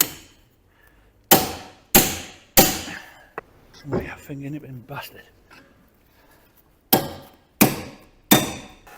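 Sharp, loud hammer blows ring on a metal kingpin of a Massey Ferguson tractor front axle in two groups of three, separated by a short pause where someone speaks.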